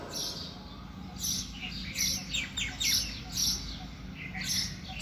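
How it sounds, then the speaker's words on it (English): Early-morning birdsong: several bright chirps and tweets in short bursts, moderately near, over a soft steady background hiss. "listen the bird songs."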